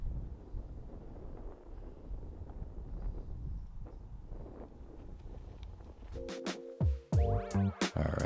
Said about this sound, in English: the wind has just really picked up here late in the round